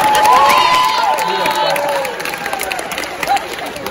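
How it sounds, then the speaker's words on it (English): Loud crowd of students cheering, whooping and shouting at a school kindness rally as Josh heads back to his seat, steady and dense throughout with excited yells rising above the roar. "We'll give you a big round of applause."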